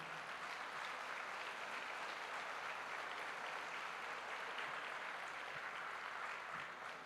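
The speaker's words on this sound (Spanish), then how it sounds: "¿Cuánto le dan un fuerte aplauso al Señor?" A church congregation gives a long, steady round of applause, a dense, even wash of many hands clapping in a large room, heard at a distance and fairly soft, with no voices on top.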